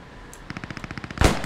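A Sturmgewehr rifle in the video game Post Scriptum fires a fast burst of about a dozen evenly spaced shots, ending in one louder, sharper blast.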